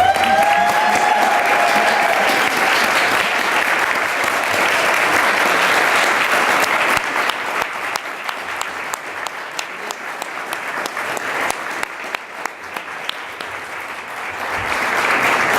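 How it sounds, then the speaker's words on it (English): A graduation audience applauds professors and loved ones at a Doctor of Education commencement, sustained broad clapping from a large crowd that continues steadily throughout and swells again near the end. "give a round of applause to your professors and your loved ones."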